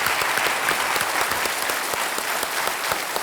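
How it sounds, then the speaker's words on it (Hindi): A studio audience on the Hindi quiz show Kaun Banega Crorepati applauds to welcome the contestants, a dense, even roar of clapping from many people that holds steady from start to finish. "तालियों के साथ उनका अभिनंदन।"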